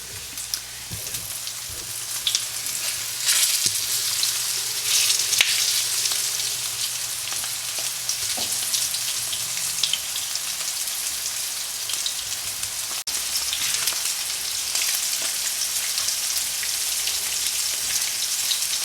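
Spicy fish frying in hot oil in a pan, a steady dense crackling sizzle that holds constant throughout, close up, with a few faint clinks and no speech.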